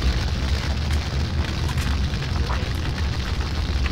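Napalm explosion in a Doom mod with flamethrower-style weapons: a loud, dense, continuous roaring blast of fire and rumble fills the whole stretch without letting up.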